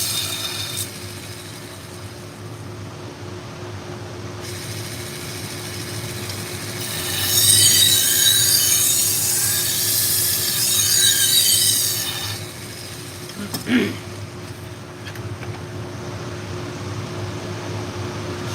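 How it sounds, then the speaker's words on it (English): Clipper blades are sharpened on a sharpener, giving a steady grinding hum with a louder rasping, scraping stretch in the middle and a brief clank near the end, with no talking. "This is the last of the stuff I'm sharpening this evening."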